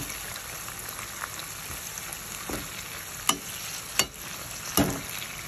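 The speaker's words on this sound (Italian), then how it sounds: "Una volta che sta friggendo questa bella bontà" Food sizzling and frying in a pan with cherry tomatoes, a dense steady crackle close by, punctuated by three sharp scraping knocks of stirring near the end, with no voices.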